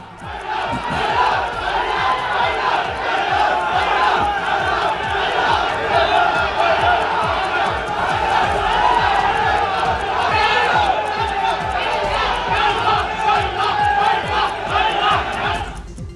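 A crowd of devotees inside the Panchamasali math loudly shouts "thief" at arriving trustees, a dense, continuous roar of many voices with rhythmic chanting that stays strong throughout.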